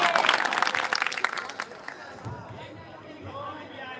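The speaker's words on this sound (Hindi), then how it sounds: "एक बार फिर तालियां बजा के इस्तकबाल कर लीजिए" Audience applause at a mushaira poetry gathering, a burst of clapping that fades out after a couple of seconds into quieter crowd murmur.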